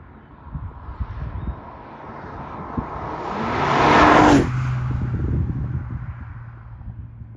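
A Porsche 911 992.2 GTS Targa hybrid accelerating hard outdoors, engine note rising to a loud roaring peak as it passes close by, then fading into a steady distant drone.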